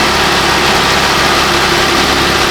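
A Jeep Wrangler engine with a failed injector idles roughly with a misfire, a loud, steady close-up drone that runs unbroken without any talk.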